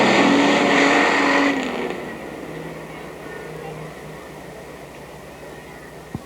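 Race cars in a heat race at Mt Clemens Racetrack in 1984, a loud roaring engine sweeping close past at first, then fading into a distant drone of several cars circling the track.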